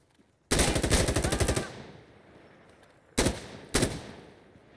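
Insurgency: Sandstorm game gunfire on Xbox: a sharp, rapid automatic burst lasting about a second, followed after a pause by two separate single loud shots, with quiet ambience between.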